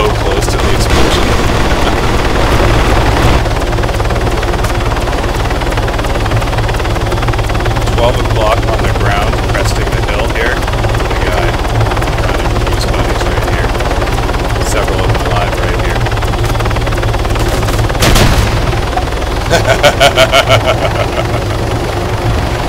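An armed Hummingbird attack helicopter flies in the video game Arma 3 during a King of the Hill match. Its loud, steady rotor and engine drone runs throughout, with a rapid burst of gunfire near the end.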